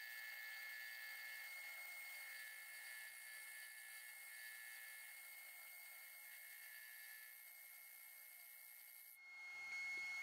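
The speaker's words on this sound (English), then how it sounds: "I just clean it up with some sandpaper to take away any fuzziness" A walnut workpiece spinning on a woodturning lathe is sanded with sandpaper, giving a faint steady abrasive rub over the motor's whine that stops abruptly near the end.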